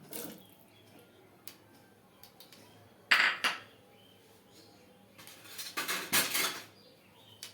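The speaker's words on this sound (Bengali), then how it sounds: "একবার আমি নাড়িয়ে দিলাম" Cut potatoes being stirred in a cooking pot for a vegetarian ghugni with boiled peas, giving a few sharp scraping clinks of a utensil against the metal, with short bursts near the middle and end and quiet gaps between.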